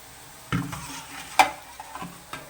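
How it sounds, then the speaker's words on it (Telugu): Garlic slices dropped into a hot pan of oil while cooking a taro and egg curry, with a few stirring scrapes and brief sizzling bursts, close and fairly quiet, no talking. "వెల్లుల్లి రేఖలు వేస్తున్నానండి."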